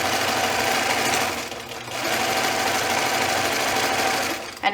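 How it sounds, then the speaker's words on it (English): A sewing machine runs a long continuous seam on pajama pants, its steady mechanical whir broken by one short pause near the middle, close and fairly loud with no talking. "bring our machine back up here, put it in, follow our seam allowance, make sure we back stitch at the beginning and the end"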